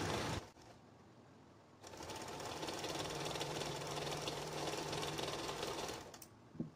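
A sewing machine stitching two fabric pieces together, running in a steady, even mechanical rattle for several seconds, with short pauses and handling noise at the start and end, and no talk.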